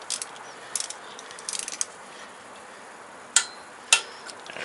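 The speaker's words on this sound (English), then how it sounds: "tighten these up to 80 to 120 inch-pounds. So we're going to take our 5/16 socket, Allen socket back here." Bolts being tightened with a 5/16 Allen socket on a Harley-Davidson Sportster motorcycle during battery replacement: light metallic ratchet clicks in short bursts, then two sharp distinct clicks, close and alone over a faint background hiss.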